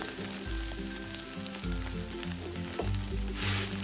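A fasting dosa sizzles on a hot griddle, giving a steady, close frying hiss with a few low thumps and scrapes as it is handled.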